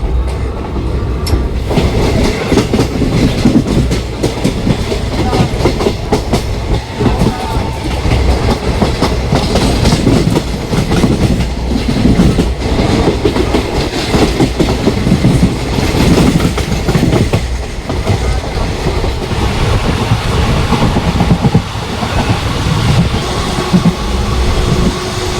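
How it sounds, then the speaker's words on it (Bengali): A local train pulls out of Ranaghat station in West Bengal, heard from on board: a loud, continuous rumble and rhythmic clickety-clack of wheels over the rails, building steadily with faint metallic squeals and no talking. "রানাঘাট স্টেশন থেকে এখন ট্রেন ছেড়ে দিল।"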